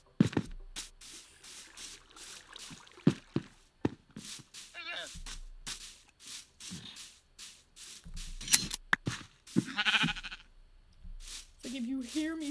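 Sheep, including a brown sheep, bleat several times in a video game amid clicks and snipping sounds, with a voice talking at points across the clip.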